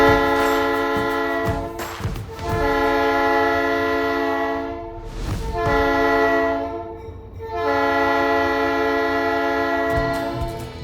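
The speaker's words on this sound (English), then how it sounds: "the train blows the horn through each and every single one of them" Horn on Fort Bragg's Skunk Train sounding for grade crossings, three long loud chord blasts separated by short gaps, heard up close from the cab over the rumble of the train.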